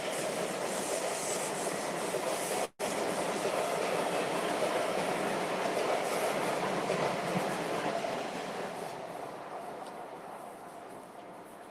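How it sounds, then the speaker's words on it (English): A train rolls past continuously, with steady broadband rumble and rail noise throughout, holding loud before slowly fading toward the end. "Here comes the choo-choo."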